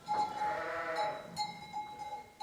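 Sheep and lambs bleat in a lambing barn in August: one long, loud, wavering bleat near at hand opens, followed by several shorter, fainter calls from the flock, with no voices.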